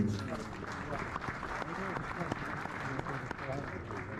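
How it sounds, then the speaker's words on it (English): Audience applause at a footballer's farewell tour evening, a steady wash of clapping with a voice talking over it throughout. "Give those people a round of applause."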